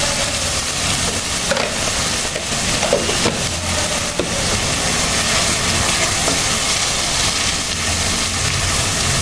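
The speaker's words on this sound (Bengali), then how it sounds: "পানি দিব মশলাটা কষানোর জন্য। মশলাটা প্রায় কষে আসছে" Spice paste sizzling and bubbling in a pan with added water for a chicken mung dal, a steady dense hiss with small pops and clinks, close and continuous with no talk.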